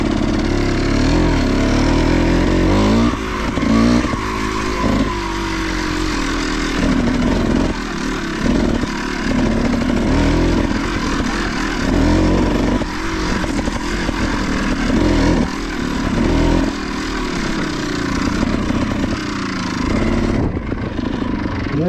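A trial motorcycle revs and accelerates around a dirt practice track, its engine rising and falling in repeated bursts and fairly close throughout before cutting off near the end.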